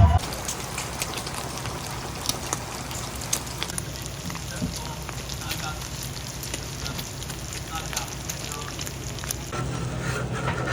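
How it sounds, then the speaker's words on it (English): Bacon sizzles in a pan at an outdoor food setting, a steady crackling hiss with small pops running throughout at moderate loudness. "Getting the bacon ready for the bacon fried corn later."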